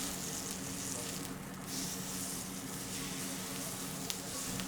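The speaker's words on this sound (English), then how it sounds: "give it a nice little push so that it sticks to the pan to get that nice sear" A thick bison steak sears in a thin, hot carbon steel pan, giving a steady, loud, close sizzle that carries on without a break.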